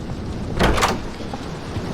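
A door opens in a first-person video game with a short whooshing slide lasting about half a second, heard over a steady background ambience.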